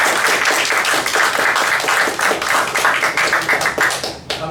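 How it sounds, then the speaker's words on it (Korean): An audience at a youth policy meeting in Namwon claps in a sustained round of applause that stays loud and dense for about four seconds, then quickly tapers off, with no talking over it. "좋았으면 박수 한번 부탁드립니다"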